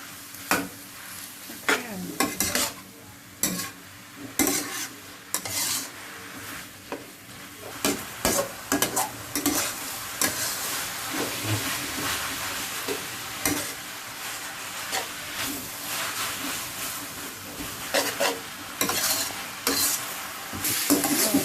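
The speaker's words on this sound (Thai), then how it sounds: "คนให้มัเข้ากันดีๆ" Glass noodles with cabbage and pork sizzle and fry in a pan while a utensil stirs and scrapes repeatedly against the metal in irregular bursts, close up.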